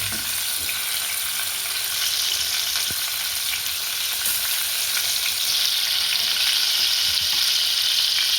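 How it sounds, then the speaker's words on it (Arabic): Chicken pieces frying in a hot pan with onions, a loud continuous close sizzle with steady crackling hiss throughout and a few faint clinks. "ادي نحط الفراخ تاخد الصدمه فيها"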